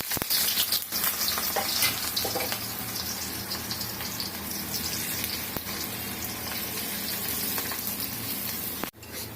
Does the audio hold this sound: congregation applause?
no